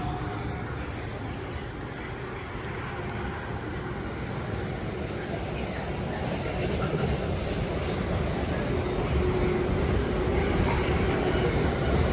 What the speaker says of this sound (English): Here comes a freight with a nice horn.